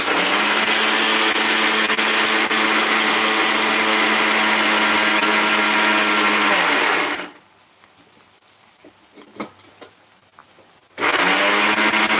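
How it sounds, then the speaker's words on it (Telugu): Mixer grinder grinding spices for bitter gourd spice powder, a loud continuous whirring motor close by that stops for a few seconds amid faint handling sounds, then starts again. "ఇలా మెత్తగా మిక్సీ పట్టేసాను దీన్ని"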